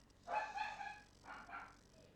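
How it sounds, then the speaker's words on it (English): Small puppies yipping in two short bursts, high-pitched and fairly faint, with a brief pause between them and no talking over them. "Puppies."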